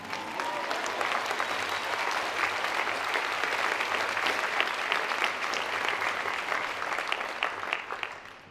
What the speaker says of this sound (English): This is where you clap.